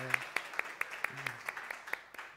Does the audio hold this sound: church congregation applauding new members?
yes